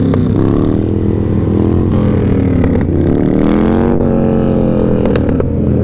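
Close, steady motorcycle engine drone on a street ride, its pitch rising and falling through throttle changes over several seconds, with wind buffeting and no talking.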